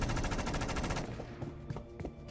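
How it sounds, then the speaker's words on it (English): A rapid burst of loud gunshots fires in a steady machine-gun rhythm for about a second, then gives way to a few scattered, fainter shots trailing off in a reverberant space. "More ear-splitting gunshots lit the tunnel ahead."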